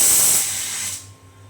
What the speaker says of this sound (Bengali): সিটি দিচ্ছে আমি তিনটা সিটি দিলে চুলাটা বন্ধ করে দেবো